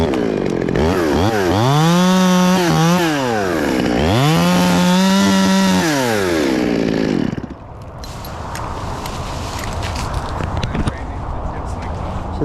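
A chainsaw cuts into a hard ironwood tree, its engine rising and falling in two loud, sustained bursts up close before dropping back to a rough idle rumble.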